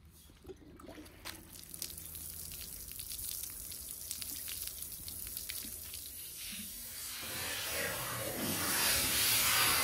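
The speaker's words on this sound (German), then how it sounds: "Die Kamera ist wetterfest. Ich habe den Gießkannentest gemacht." Water poured from a watering can over a weather-sealed Nikon Z8 camera: scattered drips and patters at first, building into a steady, hissing splash that grows louder toward the end.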